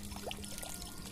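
Pumped water circulates and pours in a small recirculating plant-watering setup, a faint, soft trickle and splash running continuously with no talking.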